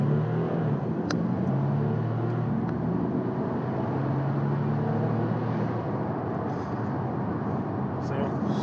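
Audi A5 3.0 TDI quattro diesel pulling hard from a standstill to 60 mph in sport mode with traction control off, a loud, steady cabin drone of engine and road noise that holds for the whole run.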